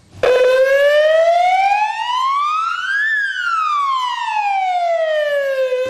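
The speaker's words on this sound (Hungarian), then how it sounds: "A 14 óra 46 perckor beindított szirénák az ő emlékükre szóltak." A single loud memorial siren sounds for the victims of the September 11 attacks, its tone sweeping steadily upward and then slowly falling again, close and sustained with no speech over it.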